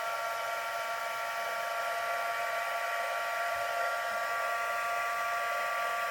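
A handheld heat tool used to set frosting on gingerbread runs as a steady, even hiss throughout, close and unbroken, with no talk.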